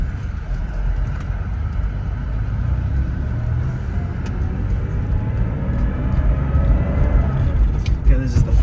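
A 1989 Porsche 911 Carrera coupe with a 5-speed G50 manual gearbox drives through city streets on a warm day in Michigan. A steady, close engine and road rumble continues throughout, with a slight swell near the end.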